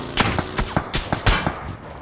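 Video game gunfire, a rapid string of sharp, loud shots cracking in an uneven rhythm over about two seconds, close and dense, with faint voice in the background.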